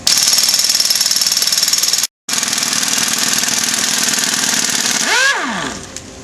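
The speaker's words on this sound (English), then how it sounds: "Remove the center bolt with a 13mm socket." A power tool fitted with a 13mm socket drives out the center bolt of a triple disc motorcycle clutch, making a loud, steady rattling buzz. The buzz stops briefly, then resumes and winds down with a falling whine near the end.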